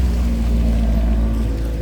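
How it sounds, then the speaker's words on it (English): A Maserati GT Gran Turismo passing on a Mumbai street, a loud, steady low engine drone filling the short clip. "That's a Maserati GT, guys. Gran Turismo."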